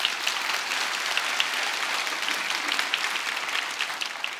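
A congregation at a young adults' worship service at Sooyoungro Church claps in a dense, even wash of applause that holds steady from start to finish.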